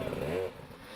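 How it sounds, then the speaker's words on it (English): Enduro motorcycle on the throttle during the Erzbergrodeo hard enduro race, a brief close engine rasp rising in pitch, then fading off over rough terrain. "But Bolton is on the throttle and letting it all hang out"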